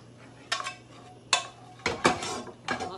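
Butter is spread around a frying pan before a fish fillet goes in, heard as four short scraping and clinking bursts of a utensil against the pan, close and separated by quiet gaps.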